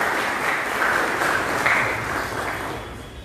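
A crowd applauds Amitbhai at the UJAS Award 2020 ceremony at Mahida Bhavan in Surat, a dense, even roar of clapping that holds steady and then slowly fades toward the end.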